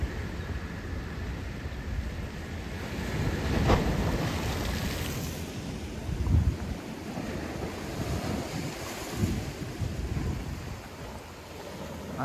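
Sea waves and wind at Guánica bay, Puerto Rico, after Hurricane Beryl, with steady wind buffeting the microphone over a continuous wash of surf and occasional louder wave surges.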